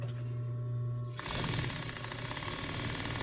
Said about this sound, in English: So I'm going to finish sewing that seam.